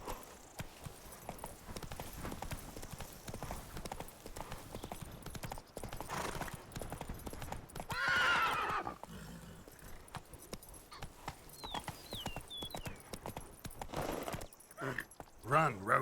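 Roach the horse galloping in The Witcher 3, quick rhythmic clip-clop of hooves under game ambience, with a brief whinny and spoken game dialogue partway through.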